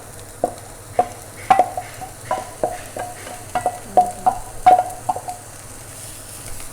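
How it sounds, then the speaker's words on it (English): Bacon goes back into a pan of frying potatoes and is stirred, giving a run of sharp scraping and clacking strokes at an irregular pace over a low, steady sizzle with no talk. "And now we're gonna add our bacon back into the mix."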